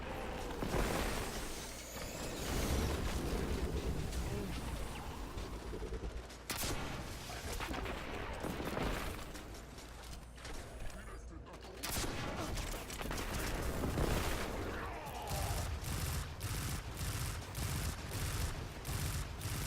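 Pulse rifle fire from a Vigilance Wing in Destiny 2, dense bursts of shots running almost continuously with brief gaps, loud and close amid other combat noise.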